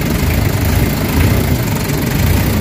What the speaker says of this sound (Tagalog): Tingnan mo yung response ng engine, oh.